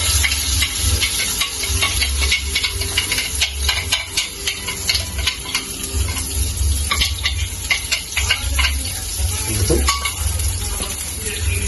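Chili sauce simmering over low heat in a pan gives a steady, soft sizzle and hiss with occasional stirring scrapes, continuous throughout, with no talking.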